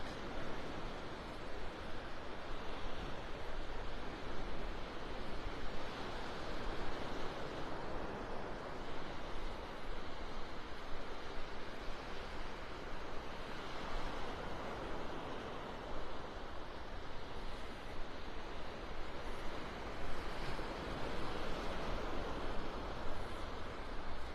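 Surf washing steadily onto an open, undeveloped stretch of Vanderbilt Beach in North Naples, Florida, a continuous broadband roar with gentle swells, mixed with light wind buffeting the microphone and no voices.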